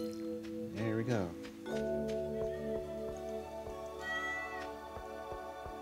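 A cat meows loudly and repeatedly up close, its drawn-out, wavering cries dominating, with a person talking softly in the background.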